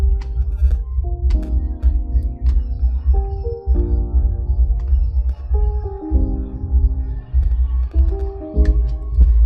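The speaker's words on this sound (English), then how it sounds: "I played the keyboard from Labs. This is how I played it." A keyboard instrument from the Labs plugin plays simple repeated chords over a heavy low bass in a beat-making setting, with steady chord changes and a different final chord, loud and with no talking.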